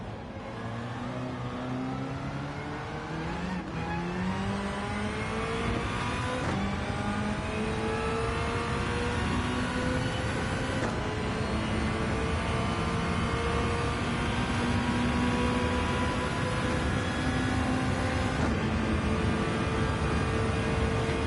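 A race car in Gran Turismo 7 drives with a steady engine roar as the driver warms the tyres, rising and falling revs with gear changes, continuous and loud throughout with no talk.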